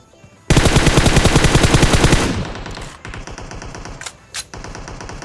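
Rapid automatic gunfire in the Free Fire mobile game rattles loud and close for about two seconds, then trails off into a few fainter distant shots over a steady background hum.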